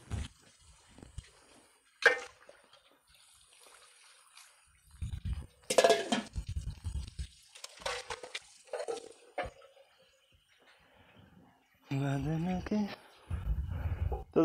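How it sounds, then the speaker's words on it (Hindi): Dishes, pots and utensils being washed by hand at a home in a hill village, with scattered clinks, scrapes and splashes of water coming in bursts, while a person talks at times in between. "ये धो रही बर्तन।"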